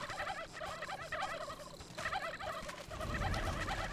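A turkey gobbles in How to Survive 2, a video game, with several quick warbling calls that repeat through the stretch over a busy, noisy game soundscape.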